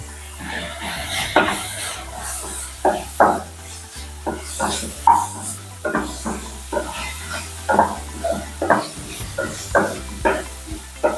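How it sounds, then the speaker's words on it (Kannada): Ginger garlic paste being stirred in a pan for a South Indian mixed vegetable stir-fry gives repeated clattering scrapes of a utensil against the pan, with light sizzling beneath, loud and close, and faint talk in the background. "ಈಗ ಶುಂಠಿ ಬೆಳ್ಳುಳ್ಳಿ ಪೇಸ್ಟ್ ಹಾಕ್ತಾ ಇದ್ದೀನಿ"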